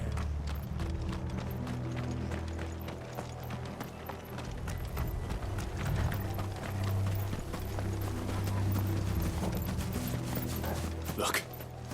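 Galloping horses from the video game Final Fantasy XVI pound out a steady run of hoofbeats beneath a dense layer of game music and ambience, with some creaking tack and a brief neigh.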